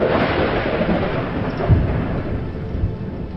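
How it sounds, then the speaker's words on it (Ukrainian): Thunder after a lightning strike rolls as a continuous deep rumble, loud and sustained throughout with a slight swell midway, with no voices. "Далі ми чуємо гуркіт, спричинений коливанням повітря."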